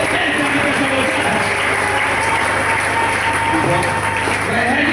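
A church congregation at a prayer marathon claps and cheers, a loud continuous wall of applause with voices mixed through it, unbroken from start to finish.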